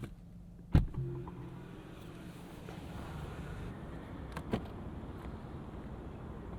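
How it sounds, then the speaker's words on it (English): The driver's door of a 2024 Genesis G90 closing automatically, a soft motorized pull ending in a muffled thud, with a fainter second clunk later over a quiet cabin hum. "once you put your foot on the brake, it auto closes the driver's door for you"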